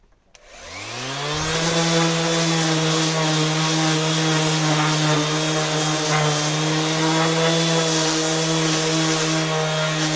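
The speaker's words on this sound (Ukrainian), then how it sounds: "Зараз шліфуватиму" A power sander starts up and runs steadily with a loud, constant motor whine and gritty buzzing against wood, without pause.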